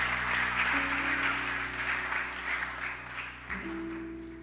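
A church congregation at a seminary gathering in Rabat applauding, steady dense clapping from a crowd in a large room, moderately distant and even, over a low musical drone without speech.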